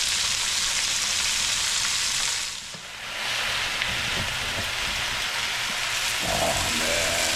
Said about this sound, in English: put our steak in here. Our ribeye.